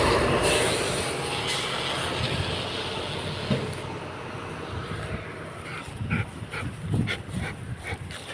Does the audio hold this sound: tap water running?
no